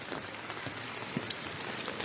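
Steady rain falling on surfaces during flooding in Barangay Payatas, Quezon City, a dense, even patter close by with a few sharper drops and no voices.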